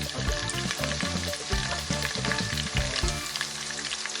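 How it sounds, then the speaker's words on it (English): Onions fry in a pot for Nigerian beans and breadfruit porridge, giving a dense, continuous sizzle up close with faint stirring sounds underneath and no voices. "allow the onions to cook a little bit before we add our"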